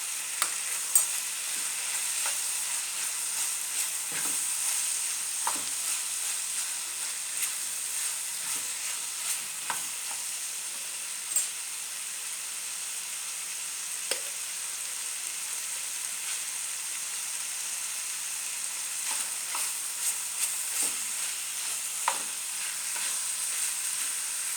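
Chicken filling fries and is stirred in a pan, a steady broadband sizzle running throughout with soft, scattered scrapes and clicks from the utensil, close and moderately loud with no talking.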